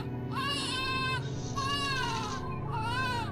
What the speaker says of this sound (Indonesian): Suara bayi yang terdengar di kamarku.